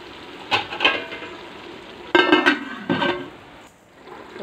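A spoon scrapes and clinks against a pan while mutton curry with brinjal is stirred, several short bursts of stirring over a soft sizzle, close and fairly quiet.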